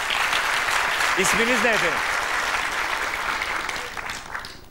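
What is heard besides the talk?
audience applause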